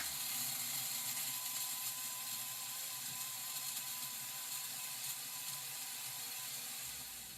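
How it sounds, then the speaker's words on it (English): A blender whirs steadily as it mixes a thick Shakeology shake, a constant high mechanical whine at moderate level running for several seconds before easing off at the end. "And then we blend."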